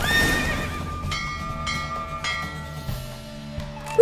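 Horse neighing and whinnying with galloping hoofbeats in The Witcher 3 video game, a loud close whinny up front, then steady clip-clop hooves continuing beneath it, with no talking.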